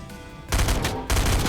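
Submachine gun fire in Fortnite, two short rapid bursts of automatic shots, loud and close, with a brief gap between them and no talking.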